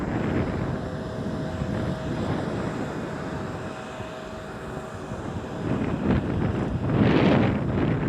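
Wind gusts and roars inside the tower of a wind turbine in Kilinochchi, Sri Lanka, a continuous broadband rush that swells louder toward the end.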